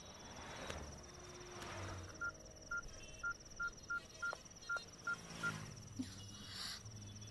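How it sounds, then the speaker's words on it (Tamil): A phone number is dialed on a keypad: about ten evenly spaced touch-tone beeps in a quick steady rhythm, with crickets chirping faintly throughout and no talking. "ஹே, நீ வித்யாக்கு ஃபோன் பண்ண"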